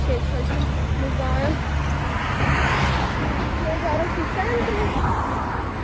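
A car drives through city traffic with a constant low road rumble and engine hum from inside the vehicle, while faint voices murmur in the background.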